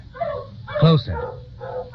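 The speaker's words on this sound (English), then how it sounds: "she listened to the distant baying of dogs" Dogs baying in the distance as an audio drama sound effect, a few drawn-out yelping howls rising and falling over a dim background, moderately loud and without speech.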